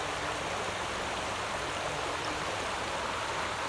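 A brook in Jamaica State Park, Vermont flows steadily nearby, a continuous broadband rush of water under a woodland canopy with no voices.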